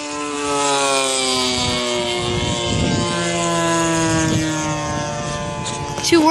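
Radio-controlled model A6M Zero and F6F Hellcat warplanes fly close by, with a loud, steady engine drone whose pitch slides up and down as they pass, and a voice speaks over it.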